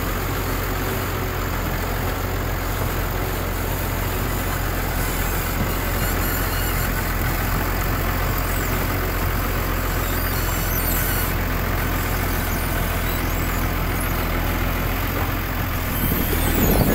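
A New Holland tractor engine runs steadily, a dense continuous diesel rumble with broadband mechanical noise, loud and close throughout with no pauses.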